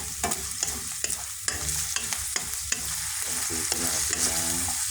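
Food fries in cooking oil in a pan, a continuous close hiss of sizzling broken by sharp pops and clinks of a utensil stirring, with a faint hum underneath.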